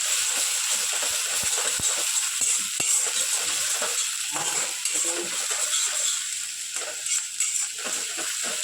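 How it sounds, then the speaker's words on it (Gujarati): Garlic, chillies and onion sauté in a hot pan with a steady loud sizzle, broken by occasional scraping stirs and soft clinks of the utensil against the pan. "લસણ, મરચાં અને ડુંગળી સરસ આપણે એને ચોટો કરી લઈએ"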